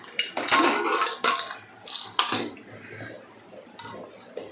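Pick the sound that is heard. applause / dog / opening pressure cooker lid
opening pressure cooker lid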